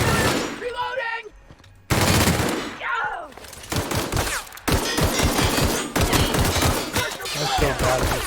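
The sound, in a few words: gunfire and reloading in video game The Outer Worlds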